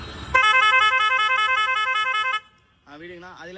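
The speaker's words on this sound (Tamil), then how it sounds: "அடிக்கணும், ஹார்ன் அடிக்கணும்." A musical multi-tone horn fitted by an electrical shop in Ambur blares a loud, steady chord for about two seconds, then a shorter warbling tone follows; talk is heard around it.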